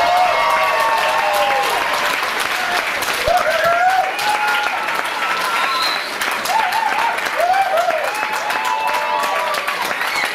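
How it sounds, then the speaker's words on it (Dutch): Loud, sustained applause from an audience at a dance event, with cheers and whistles rising over the clapping while a voice talks through part of it. "Groot applaus voor Gerwin Roth en Sascha!"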